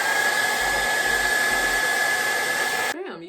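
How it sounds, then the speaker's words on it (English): Blow dryer running on a wig, a loud, steady close-up whoosh with a constant high whine, cutting off abruptly near the end. "you could use mousse and a blow dryer if you like"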